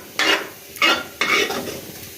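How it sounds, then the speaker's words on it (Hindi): Garlic fries in hot oil for a tadka, browning to golden, with three loud sizzling bursts as it is stirred in the pan, then a softer continuing hiss, heard alone without talk. "लहसुन को हम कर रहे हैं गोल्डन ब्राउन।"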